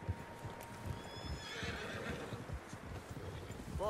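Several horses in the Red Dead Redemption 2 video game, with one whinny rising midway over soft, steady clip-clop hooves, all fairly faint and distant.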